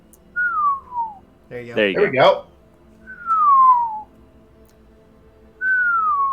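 A human voice imitates a creature's wind-like whistling: three drawn-out descending whistles, each sliding down in pitch like wind through a gap, separated by a burst of talk in between.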